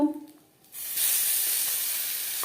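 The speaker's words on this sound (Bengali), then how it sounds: "সামান্য পরিমাণে সরষার তেল গরম করে নেওয়ার পর দিয়ে দিলাম হিং" Asafoetida dropped into hot mustard oil, setting off a sudden loud, close sizzle that stays steady and hissing after a brief quiet moment.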